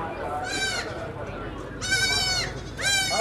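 High-milking goat at a Haripur livestock market bleating three times in loud, wavering cries over crowd noise and someone talking nearby.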